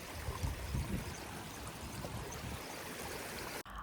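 Water from a stream flows steadily at a BBQ spot during the Salalah khareef season, giving a continuous broadband rush with gurgling low-end bursts, close and fairly loud, and no voices.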